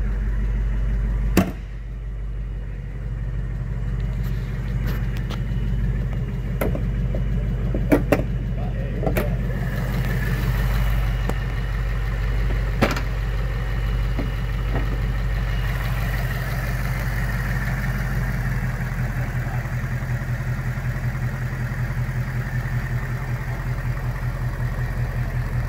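A Ford Mustang Bullitt idles with a deep, steady low rumble, broken by a few sharp clicks and brief blips; a voice speaks faintly in the background.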